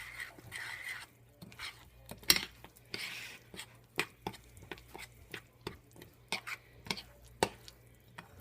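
A spoon stirs runny cornbread batter in a bowl, making a rhythmic series of soft scraping and clicking strokes, close and fairly quiet, with no talking.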